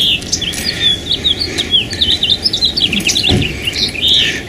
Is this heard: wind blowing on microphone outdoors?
no